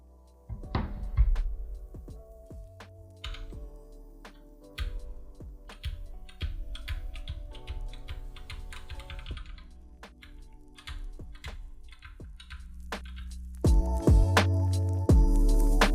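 Keystrokes rattle on a budget Bluetooth mechanical keyboard, crisp clicky presses arriving in quick uneven bursts with brief pauses, close and clear, ending in a few heavier thunks.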